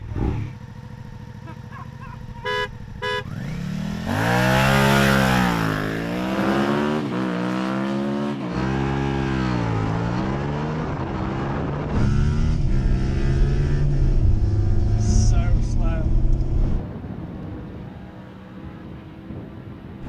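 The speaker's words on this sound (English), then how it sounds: "Transit full of crisp packets versus the motorcycle." A Ford Transit van full of crisp packets drag races a Suzuki SV650 motorcycle, loud engines revving and accelerating through rising, repeated gear changes, then fading as they pass, with a brief electronic beep at the start.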